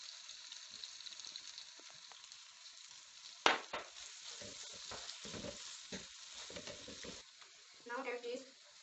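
White sauce poured into a pan of pasta hits with a sudden burst of sizzling, then steady frying hiss with stirring and scraping continues for several seconds before a short voice-like sound near the end.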